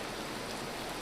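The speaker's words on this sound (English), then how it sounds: "Oh my god, it's hailing out." Hail pelting down in the survival game Vintage Story makes a loud, dense, steady hiss of countless tiny impacts, a continuous wash of noise with no gaps and no voices.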